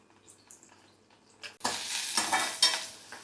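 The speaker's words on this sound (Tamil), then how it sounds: "வெங்காயத்தை அதில் சேர்த்து அதோட கோல்டனாக வதக்கிக்குவோம்" Onions dropped into hot oil with whole spices in a pan for a lunch-box dish, quiet clinks first, then a sudden loud sizzle that stays continuous with stirring scrapes, close up.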